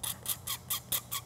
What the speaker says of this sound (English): I need to scratch through this paint down to the plastic so it's got a good surface to glue to